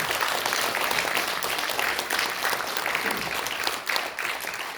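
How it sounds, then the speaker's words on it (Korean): Audience applause fills a hall at a Korean political party's general-election launch ceremony, sustained and dense, loud and steady for the whole stretch with no talk over it. "여러분들 박수 부탁드립니다"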